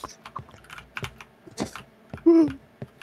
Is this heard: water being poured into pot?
no